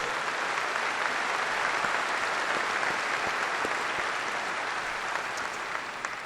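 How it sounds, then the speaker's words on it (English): Sustained applause from a large audience at a National Rifle Association leadership event, a dense steady wash of clapping that holds evenly for the whole stretch without any voices over it. "So give yourselves a round of applause for all you do"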